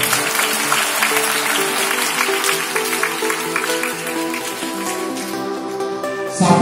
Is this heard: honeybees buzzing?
no